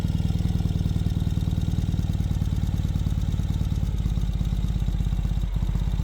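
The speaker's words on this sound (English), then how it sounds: "The bike is already warm, so you can hear that idle already drop down to its regular idling position." A warm 2019 Ural Gear Up Sahara sidecar motorcycle idles close by with a steady, even putter that holds its rhythm throughout, with one brief dip near the end.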